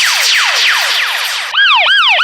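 A DJ sound-effects phone app plays a loud siren effect: fast repeated descending wails that switch partway through to a quicker rising-and-falling yelp pattern, close and alone.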